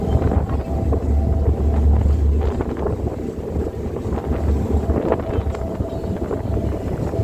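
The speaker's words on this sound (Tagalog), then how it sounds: "Umuuga na talaga ang bangka namin." A small boat rocks at sea on a five-island day cruise, with a steady engine drone and heavy wind buffeting the microphone throughout, loud and continuous.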